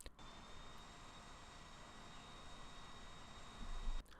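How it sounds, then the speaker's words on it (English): A plane flying in a Minecraft war mod, a steady airy engine drone with a faint high whine throughout, swelling slightly near the end. "I actually managed to fly the plane"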